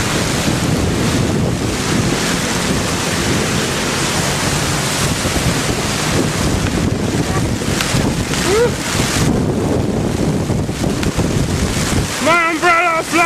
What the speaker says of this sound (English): It's even windy now.